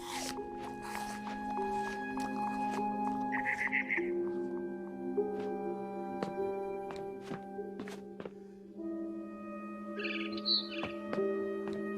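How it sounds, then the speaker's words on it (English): Short barn swallow chirps from a video game come in two small bursts over a hum of sustained background tones and scattered soft thumps and footsteps. "Then I heard chirping outside my window."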